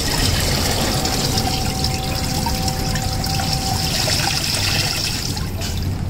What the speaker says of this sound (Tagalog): lagyan natin ng tubig to